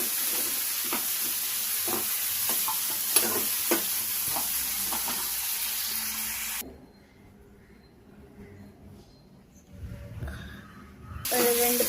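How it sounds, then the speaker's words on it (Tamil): Tomatoes sautéing in a pan give a bright, close sizzle with scraping stirs for several seconds, then the frying drops away to a quieter hiss before rising again at the end. "தக்காளி போட்டுக்கோங்க. உங்களுக்கு தேவையான அளவு நல்லா போட்டு வதக்கிக்கோங்க."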